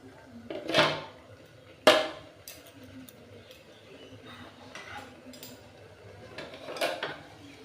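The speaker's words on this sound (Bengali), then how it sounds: "দেখুন আমি এরপর আবার ঢাকাটা খুলছি।" A lid lifted off a pot of mango pickle cooking in a kitchen, a couple of sharp metallic clanks followed by softer clinks and rattles, close and without talk.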